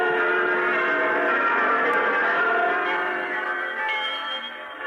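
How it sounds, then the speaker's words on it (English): Several church bells ring together in a rich, sustained wash of overlapping tones, fairly loud and steady, fading slightly toward the end. "The little bells are ringing too."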